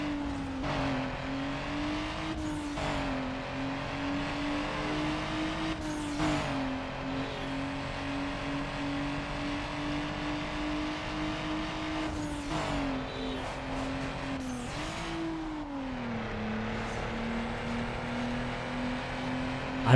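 A Nissan Skyline race car engine in Need for Speed: Underground drones loudly and revs up and down through gear shifts, with brief dips and surges over a continuous roar and no talk.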